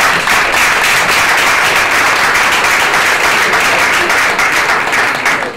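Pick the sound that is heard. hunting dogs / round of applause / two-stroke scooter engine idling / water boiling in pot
round of applause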